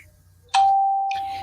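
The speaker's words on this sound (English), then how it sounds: "I'm hearing dings and stuff." A phone notification ding rings out once as a clear, close chime that holds and slowly fades over about a second, above a low background hum.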